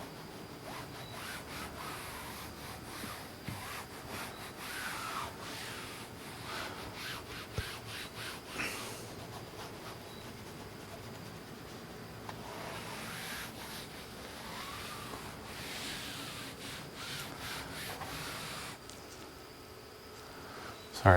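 A coating is rubbed by hand onto the plastic trim of a 2018 Ford Raptor in repeated soft back-and-forth strokes, quiet, close and rhythmic.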